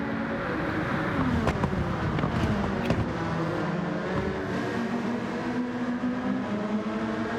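Race cars in Gran Turismo 7 during a Peugeot RCZ one-make race roar continuously, with engine tones rising and falling as cars pass, loud and steady throughout.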